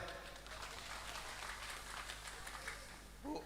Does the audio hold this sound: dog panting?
no